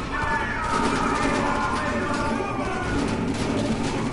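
Video game gunfire rattles in a dense, continuous burst of shots, fairly loud and steady for a few seconds, with no voices on top.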